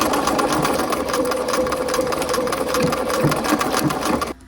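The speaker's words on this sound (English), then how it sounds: "I'm just going to reverse a few stitches and then sew down my shoulder line." A sewing machine runs steadily and close up, stitching a half-scale jacket's shoulder seam at a 3mm stitch length with a rapid even mechanical whir, then stops abruptly at the end.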